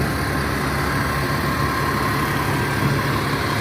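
Mercedes-Benz 1626 bus from 2014 in old yellow Rosalia Indah livery, its diesel engine idling smoothly in a steady, loud, continuous low rumble heard up close.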